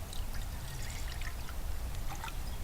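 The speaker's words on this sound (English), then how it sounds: "Put some water in there." Water poured into a stainless pot outdoors makes a steady, close trickling splash that runs without a break and with no talking.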